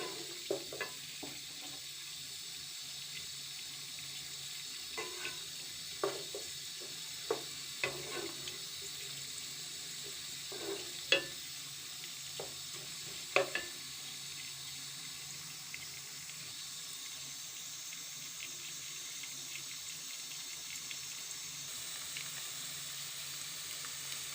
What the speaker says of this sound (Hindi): प्याज को हम लाइट सा ब्राउन कर लेंगे।